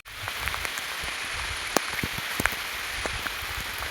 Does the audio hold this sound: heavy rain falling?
yes